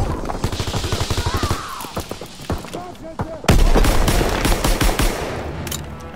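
Machine gun fire in the World War II shooter Call of Duty: WWII, rapid loud bursts of automatic shots with a heavier barrage midway, while a player talks over the gunfire.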